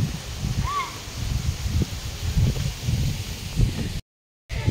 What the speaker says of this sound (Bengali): হাওয়া দিচ্ছে, ঝড় উঠছে।